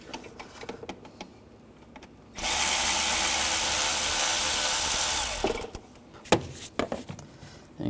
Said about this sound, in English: Use a 7mm socket,